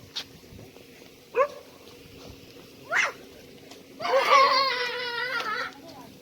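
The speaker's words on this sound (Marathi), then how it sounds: "कुत्रा" A dog at a house gives a few short, separate yelps and whines, then a longer whimpering, crying run of vocalizing, fairly close against a quiet background.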